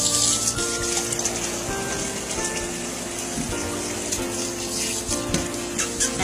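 Running water rinses a Labrador puppy during its first bath, a steady close gush like a tap or shower spray that keeps going without a break and shifts a little in strength.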